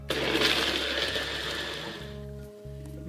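Nutribullet blender blending an avocado and almond smoothie, a loud close whirring grind that eases off and stops near the end.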